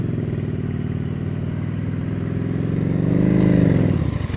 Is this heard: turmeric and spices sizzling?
no